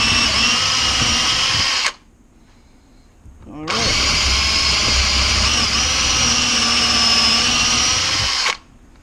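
Power drill widening a hole to 3/8 inch in a wooden mallet head, a loud steady whine that runs for about two seconds, stops, then returns for nearly five seconds more.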